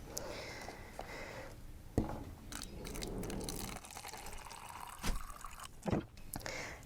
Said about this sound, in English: I'm going to now put the hot water in.